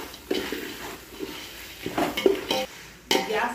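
Chili powder, salt and turmeric being stirred into a pan, with a utensil scraping and knocking against the metal in several bursts and a faint sizzle underneath.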